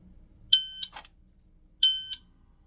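Two short, sharp electronic shot-timer beeps during dry-fire draw practice, each lasting about a third of a second and spaced just over a second apart, loud and isolated against silence.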